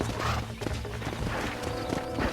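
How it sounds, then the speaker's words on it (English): A horse's hooves in Red Dead Redemption, quick clip-clop steps and scuffs as a strong horse struggles, close and fairly loud over game ambience. "este caballo es fuerte"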